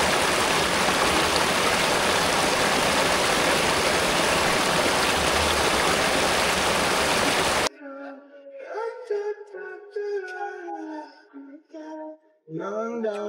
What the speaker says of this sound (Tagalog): ang ingay mula sa alon na nanggagaling sa ilog ng Cotomines